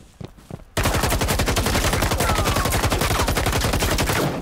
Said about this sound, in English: Trying to blind fire the hall.